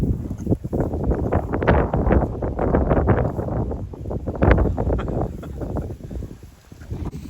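Strong wind gusting outdoors on a farm, a loud rough rumble of buffeting against the microphone that surges and fades unevenly for several seconds and then briefly drops off.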